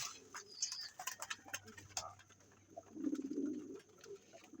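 A racing pigeon coos softly close by, a short low murmuring burst among faint ticking and light background noise.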